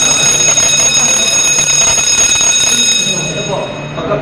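The second-stage alarm of a pre-action double-interlock fire suppression system rings as a steady, loud, continuous electronic tone, with indistinct voices faintly underneath.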